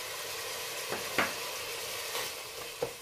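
Fresh ginger frying in a pan gives a steady, close sizzle with a few brief crackles and pops scattered through it, and no talking.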